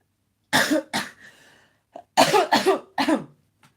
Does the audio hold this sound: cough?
yes